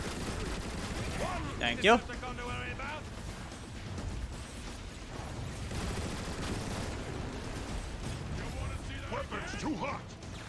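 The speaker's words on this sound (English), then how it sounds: "Who's shooting at me?" Gunfire in the Transformers War for Cybertron video game, with mechanical clatter and shots under a constant busy battle din and a sharp burst near two seconds, while a voice speaks briefly.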